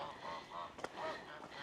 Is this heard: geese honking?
yes